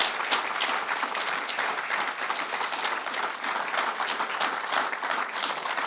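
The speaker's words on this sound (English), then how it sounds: "I would like for us to give our police department, all the men and women who work there, a round of applause" Steady, even applause from a county budget meeting audience for the police department, a dense wash of clapping lasting the whole stretch with no talk.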